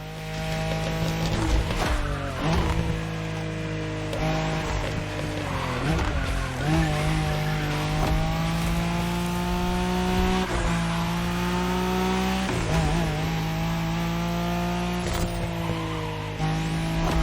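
A Nissan Skyline races in The Crew Motorfest video game, its engine droning loud and steady with repeated gear-shift pitch steps and tire squeals throughout, with no talking.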